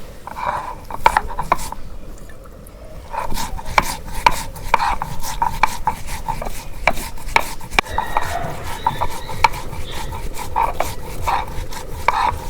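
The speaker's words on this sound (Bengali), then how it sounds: "এখন আমি জিরা বেটে দিই" Cumin being ground into a paste on a grinding stone, a rhythmic scraping and knocking of stone on stone that repeats steadily throughout.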